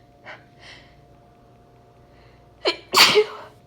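A woman with a cold gives one sharp, loud sneeze near the microphone, with a short intake of breath before it, after some soft stuffy sniffling.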